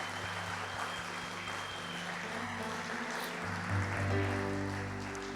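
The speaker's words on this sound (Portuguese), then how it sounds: "A salva de palmas para Jesus." A church congregation applauds steadily, dense clapping that holds for several seconds over a sustained musical tone in the background.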